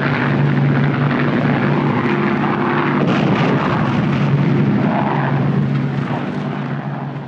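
A wartime bomber aircraft droning loudly and steadily throughout as a bomb is dropped, with a continuous engine roar and a faint rumble of the release under it.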